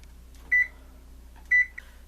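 A kitchen oven being set to preheat to 425 gives two short, clear electronic beeps about a second apart, close and distinct against a quiet room hum.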